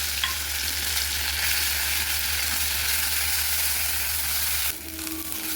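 Ground greens sizzle in hot mustard oil in a wok, a loud steady frying hiss with stirring, briefly dropping in level near the end.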